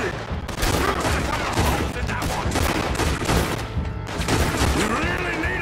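Gunfire in Red Dead Redemption rattles in a sustained barrage of loud, rapid overlapping shots with brief gaps, while voices talk over the shooting.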